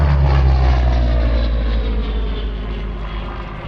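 A Spitfire Mk.V piston-engined fighter flies past at the Sywell Airshow 2024, a loud, deep, continuous propeller-engine drone that slowly fades as it moves away.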